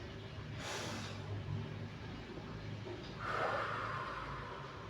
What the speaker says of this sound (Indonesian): tarik nafas dulu yang dalam, ditahan sedikit, kemudian hembuskan secara perlahan